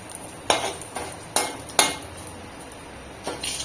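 Cardamom, cinnamon and asafoetida stirred in a pan, with a few distinct scraping clinks of a utensil against the metal at irregular intervals over a quiet background.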